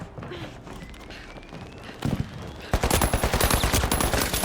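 Gunfire in THE FINALS video game: a low rumble and scattered shots give way at the end to a loud, rapid automatic burst of closely spaced cracks.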